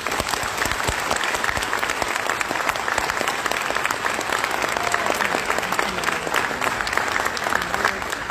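Sustained crowd applause at a university graduation ceremony, a dense, even roar of clapping that holds at full strength from start to end with no speech over it.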